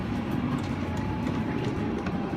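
A battery-powered ride-on toy train rolls along its track with a soft, steady rumble and light clatter, fairly faint and continuous, no voices over it.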